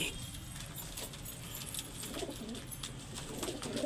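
Pet pigeons, including a blue Punjabi hen, cooing on a home rooftop, soft murmuring coos over steady outdoor background noise, with a faint jingle near the start.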